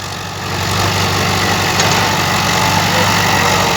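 A Ford 6610 farm tractor engine runs steadily throughout, a continuous low diesel rumble at a constant idle-like pace, close and loud with no talk.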